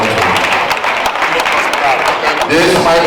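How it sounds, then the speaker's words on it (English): Dense, steady applause from an audience at a church gala night fills the whole stretch, with crowd voices mixed in and a slight swell near the end. "Please clap for him again"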